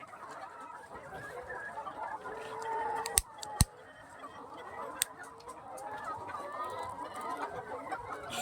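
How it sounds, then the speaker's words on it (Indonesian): Malindo laying hens clucking steadily in a coop, with a few sharp clicks and knocks scattered through and a low murmur of other birds behind. "Ini ayam saya Malindo."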